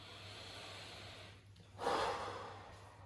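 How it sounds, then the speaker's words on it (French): A person blowing out a long breath during a guided EMDR relaxation session, a soft hissing exhale rising near the middle and fading, faint and close over quiet room hum. "Allez, soufflez un petit peu."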